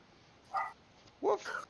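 Two dogs barking in the background of a voice call, two short muffled barks about half a second apart, faint and somewhat distant against low room noise.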